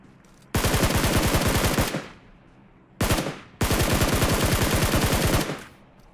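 Loud automatic gunfire from PUBG Mobile: a long rapid burst, a short burst, then another long sustained burst, each fading briefly, with no talking.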